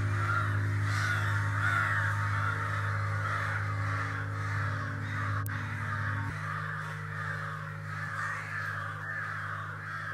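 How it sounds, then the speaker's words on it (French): Crows caw repeatedly as birds wake at dawn in a park, the calls carrying over a steady low droning hum that runs throughout. "vous percevez les sons des oiseaux qui s'éveillent, leurs chants"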